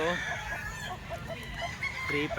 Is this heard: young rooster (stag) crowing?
yes